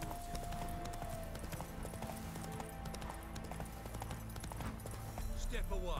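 In the Witcher 3 video game, the horse Roach gallops, a steady rapid clip-clop of hooves under dense game sound, with someone talking throughout.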